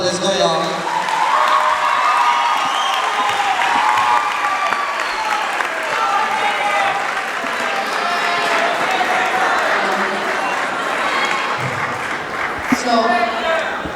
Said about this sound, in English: Give Kadian a round of applause